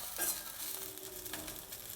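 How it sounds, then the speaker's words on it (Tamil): Soft, faint sizzling of curry leaves and coriander roasting in a hot pan with light stirring and scraping, a quiet steady crackle and no talking. "இப்போ கருவேப்பிலை, கொத்தமல்லி இதெல்லாம் நல்லா வறுபட்டுருது"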